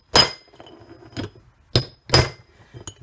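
Metal hammer blows driving out a car wheel bearing's inner race, four sharp ringing strikes spaced irregularly over a few seconds, with faint clinks in between and no talk.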